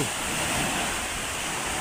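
Strong typhoon wind from Typhoon Uwan sweeping over a small stretch of sea, a dense, unbroken roar of gusting air and surf that stays loud and close without pause.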